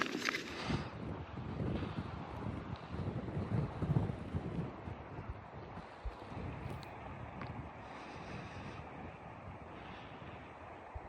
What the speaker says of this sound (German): Heute war es echt kalt und sehr windig.